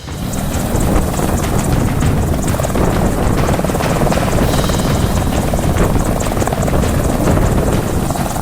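An Apache combat helicopter flying over the Kishtwar area near Ladakh, its rotor roar loud, steady and continuous throughout with a rhythmic blade chop and wind buffeting, no voices.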